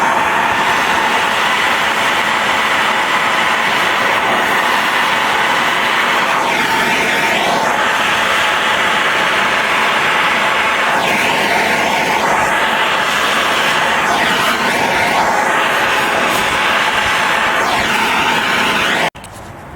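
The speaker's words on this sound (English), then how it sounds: "After that, I'll use the wire wheel on a air tool." An air-powered wire wheel whines loudly and steadily as it strips lead from a Mopar roof seam, with repeated rising and falling sweeps as it works along the metal, then cuts off abruptly.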